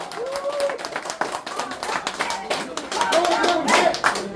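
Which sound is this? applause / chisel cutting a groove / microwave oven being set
applause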